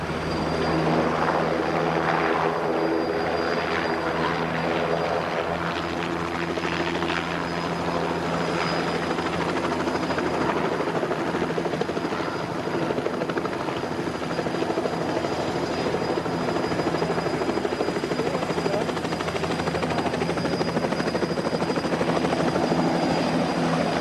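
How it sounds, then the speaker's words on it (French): A helicopter sets down on the rocky floor of a volcano crater with its engine kept running, a loud, steady close-up rotor and turbine roar that stays constant throughout with no talk. "suivant à la radio les conseils de Le Guern, le pilote décide de se poser, sans couper son moteur, sur le plancher incertain du cratère"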